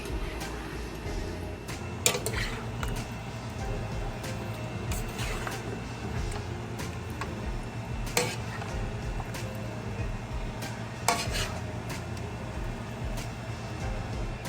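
A crab boil with sauce is stirred in a pot, giving soft, steady scraping and swishing with a few sharp clinks of the spoon against the metal rim, all fairly quiet and close.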